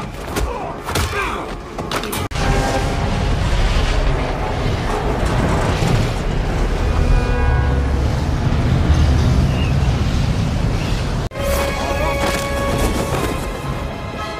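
A plane exploding in a CIA-agent action film: a heavy thud opens into a loud, sustained roaring rumble full of crashing debris, which cuts off sharply before a quieter tail of clatter.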